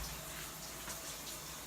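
Shower water runs steadily in a home bathroom, a continuous faint hiss with no speech over it.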